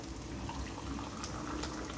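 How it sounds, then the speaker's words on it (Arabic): Three cups of hot water pour into a pot of rice being cooked for a rice and shrimp sayadieh dish, making a soft continuous splashing, liquid rush at moderate level with no voices. "نزلت 3 كوبايات ميه سخنه."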